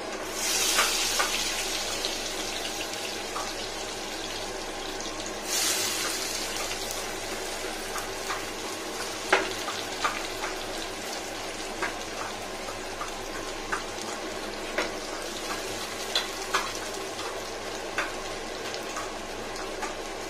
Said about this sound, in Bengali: তেলটা গরম হয়ে যাক। এখানে দিয়ে দেবো পেঁয়াজ।